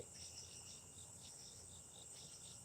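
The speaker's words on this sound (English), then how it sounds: "I'm going to go back to listening to the crickets and looking at the stars." Crickets chirp at night in a steady, high-pitched pulsing chorus, faint and distant, with no voices.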